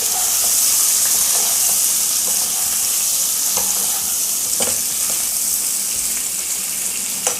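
Potatoes fry with cumin in a pan for aloo jeera fry, giving a steady, close sizzle broken by occasional scraping stirs, with no talking.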